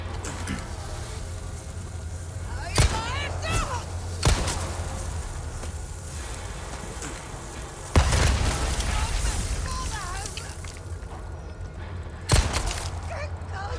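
Gunshots in the Resident Evil 4 Remake video game: four sharp, loud reports spaced a few seconds apart over a steady low game ambience, with enemy voices and vocal grunts between shots.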